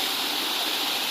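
Waterfall near Jhalariya village, a long cascade, roaring as a steady broadband rush of falling water, loud and close, with no voices.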